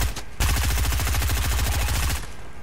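Sustained rapid automatic gunfire in a video game as a player shoots down an opponent's build, a loud, dense burst of rattling shots lasting about two seconds after a brief lead-in.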